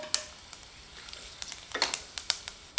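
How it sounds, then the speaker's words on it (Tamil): Fennel, cloves, bay leaf and cinnamon frying in hot oil, with light sizzling and a series of sharp crackles and pops scattered through a few seconds, close and fairly quiet with no talking. "இப்போ எண்ணெய் சூடாயிடுச்சுங்க, இதெல்லாம் போட்டுக்கலாம். இதெல்லாம் நல்லா பொரியட்டும்."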